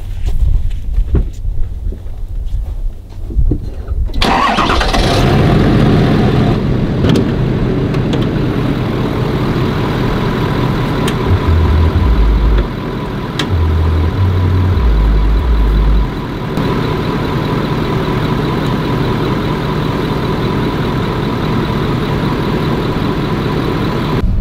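A Toyota Land Cruiser with bad gas cranks and catches after a few seconds of quiet, then idles with a loud, steady, close rumble that continues to the end.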